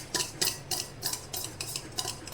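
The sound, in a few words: whisking oil and curd in a bowl for eggless cake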